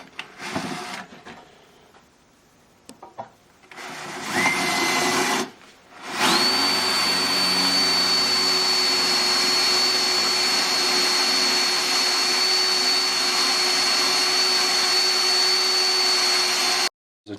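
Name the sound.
drill drilling out bolt holes to 3/16 inch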